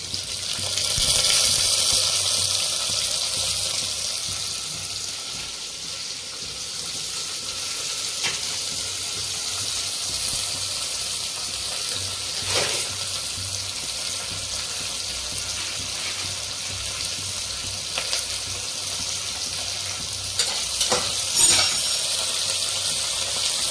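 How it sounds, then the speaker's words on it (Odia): Onions sizzle steadily in hot oil in a pan for biryani, a constant close frying hiss with occasional stirring scrapes and no talking. "ବର୍ତ୍ତମାନ ପିଆଜ ଗୁଡ଼ିକ ଜରିବାକୁ ବର୍ତ୍ତମାନ ଦେଉଛି।"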